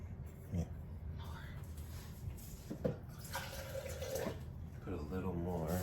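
Water is poured into a KRUPS Simply Brew multi-serve coffee maker, a steady splashing stream heard close by over room noise, with brief knocks and a faint voice-like murmur in the background.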